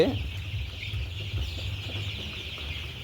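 Twelve-day-old chicks cluck softly and intermittently nearby over a low background hum, fairly faint overall, just after rain.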